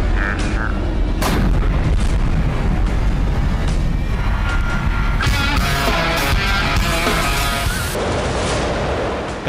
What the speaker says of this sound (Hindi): काउंटडाउन पूरा होते ही एक जोरदार धमाका होता है।